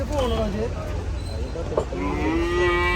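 A buffalo calf at a busy cattle market lets out a loud, drawn-out moo close by, with people talking over a steady crowd murmur.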